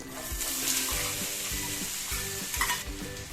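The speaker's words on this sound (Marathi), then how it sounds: "आता कांदा आपल्याला सोनेरी होईपर्यंत छान परतून घ्यायचा आहे" Chopped onions with cumin and bay leaf sautéing in hot oil over medium heat, a bright steady sizzle with regular rhythmic scrapes of a spatula stirring.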